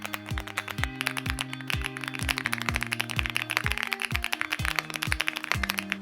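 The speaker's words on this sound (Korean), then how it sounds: "간단하게 타건음 들어보세요." Rapid keystrokes on a Sinkway mechanical keyboard, a steady run of close, crisp clacks with a faint rattle, heard alone with no talking.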